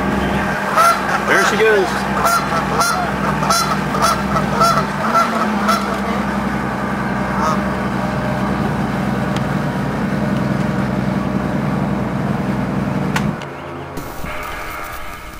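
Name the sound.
goose honking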